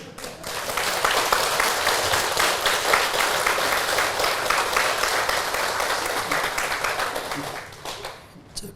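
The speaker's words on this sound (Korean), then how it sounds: "큰 박수 스스로 위에서" Sustained applause from a large audience at a Buddhist lecture, dense clapping holding steady for several seconds before tapering off near the end.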